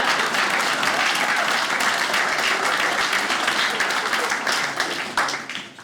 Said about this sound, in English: Round of applause, nothing?